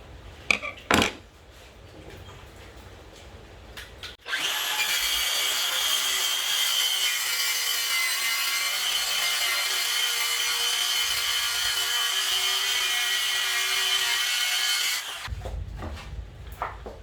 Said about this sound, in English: So I've decided to cut this at about 100 millimeters, and I have my saw set for that already as well.